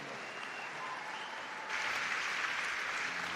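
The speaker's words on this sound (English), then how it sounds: "Give it up for your top 3, everybody." Audience applause at an Aquatics GB swimming championship final fills the arena, a steady wash of clapping that swells louder partway through and holds.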